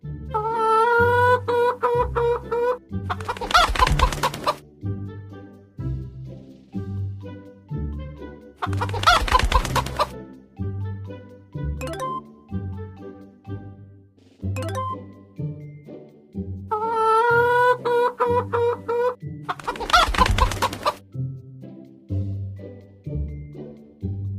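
Cartoon hens in a chicken coop in an English-learning video game cluck in repeated bursts, with occasional crowing, over a looping background game tune.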